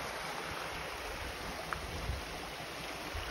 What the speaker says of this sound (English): Behind everybody, some water falling off of it.